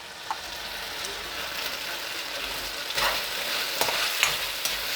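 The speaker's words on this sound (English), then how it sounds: "So the ginger, the onions, the garlic is frying." Ginger, onions and garlic fry in a hot pan, a continuous close sizzle broken by a few louder bursts as the mix is stirred, with no talking.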